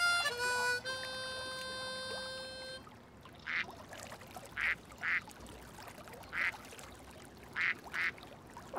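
A mother duck on a canal near a boat gives several short quacks in pairs and clusters at moderate distance, after a bright musical jingle at the start.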